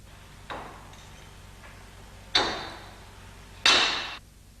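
Three sharp mechanical pops from a rivet tool fastening a retaining rail on a BMW E30 convertible hood, spaced a second or two apart, close and crisp against quiet.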